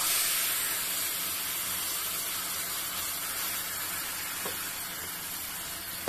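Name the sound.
mustard paste added to hot pan, sizzling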